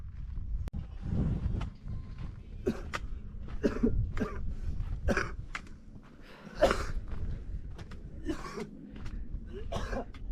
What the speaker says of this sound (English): This is called Khumbu cough.